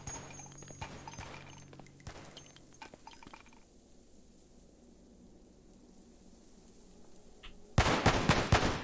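Full-auto gunfire in the video game Cataclysm DDA, heard as rapid sharp bursts early on and then a loud dense volley near the end, over a low background rumble.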